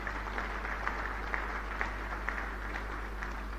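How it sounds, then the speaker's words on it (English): An audience claps at an oil refinery berth ceremony, a dense even patter of many hands with a low steady hum beneath, moderately distant and continuous throughout. "I think that President Mahama deserves a round of applause."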